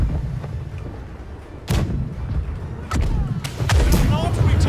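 Ship cannons in the naval game Blackwake fire in a ragged broadside, a few heavy booms and thuds arriving one after another at mid distance over a low rumbling bed, with players talking over the battle.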